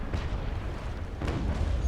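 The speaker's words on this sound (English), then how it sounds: "I'm just quickly firing off my volley" Ship cannons firing a volley in the naval combat game Naval Action, a couple of deep booming blasts rumbling over a low continuous roar, moderately loud.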